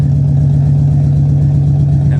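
A 1990s Nissan 300ZX engine idles outdoors with a misfire, a loud, close, steady low drone with a faintly uneven pulsing beat running throughout.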